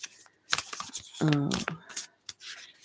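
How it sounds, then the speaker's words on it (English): Cards of a brand-new Stranger Things tarot deck being shuffled, giving soft riffling and sliding bursts mixed with a person talking. "I have to shuffle these for a while because they are new."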